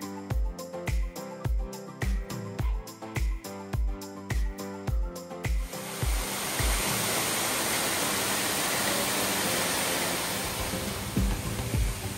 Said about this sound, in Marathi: येथे वाहणारे असंख्य धबधबे जणू सह्याद्रीचं अलंकारच वाटत होते.